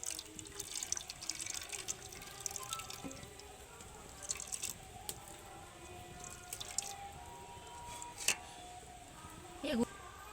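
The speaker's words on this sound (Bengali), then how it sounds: "আবার হাতের মধ্যে নিয়ে ছেঁকে নিচ্ছি।" Coconut milk is strained by hand through a sieve, giving soft, intermittent dripping and trickling liquid with small squishes and a few sharper clinks, heard fairly close against a quiet kitchen background.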